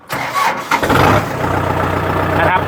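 Used 45-horsepower tractor with a four-cylinder direct-injection diesel engine cranking and catching, then settling into a steady close idle for a couple of seconds.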